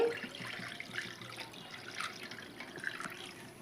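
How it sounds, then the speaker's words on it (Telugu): Water runs steadily into a metal pot on a lit stove, a soft continuous splashing trickle close by, with no voices. "వాటర్ అయితే వేస్తున్నానండి"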